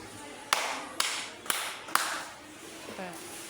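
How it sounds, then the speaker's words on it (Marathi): Four crisp, evenly spaced claps from children beating out a word's syllables in a classroom game, followed by a brief voice after the last clap. "त्या शब्दात जेवढे अक्षर असतील तेवढ्या तुम्हाला टाळ्या वाजून दाखवायच्या आहेत"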